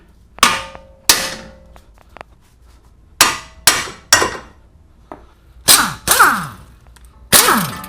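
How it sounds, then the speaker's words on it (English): A hammer strikes the front suspension of a Mini Cooper S, around the ball joints and tie rod ends, in about ten loud metallic whacks. Each one rings with a brief clang, irregularly spaced with pauses between them. "Whack with the hammer."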